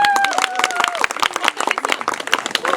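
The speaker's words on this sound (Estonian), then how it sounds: "Veel aplaus, palun ta." Applause at a triathlon award ceremony in Kasispea: brisk, close clapping from a small crowd, with a voice speaking over it at the start.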